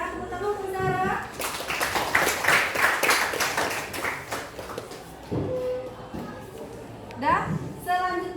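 A classroom of students breaks into a burst of hand clapping lasting a few seconds, then it fades back into chatter and a talking voice.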